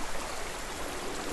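Steady broadband rush of falling water from a waterfall in Hellblade: Senua's Sacrifice, a continuous even roar with no voices over it.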